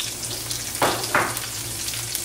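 Onions sizzle in olive oil in a frying pan as part of a shrimp fajita dish, a steady close frying hiss with two brief louder bursts of sizzle near the middle.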